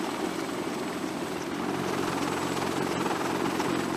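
A Sikorsky S-64 heavy-lift firefighting helicopter flies at sea, its rotor and engine producing a steady, loud droning thrum with a rapid chop underneath, alone without talk.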